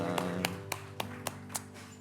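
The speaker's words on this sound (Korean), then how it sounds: "우리 하나님 앞에 영광의 박수를 올려드리겠습니다" A church congregation claps together in a steady, even rhythm during a Sunday worship service, with sustained musical tones ringing underneath.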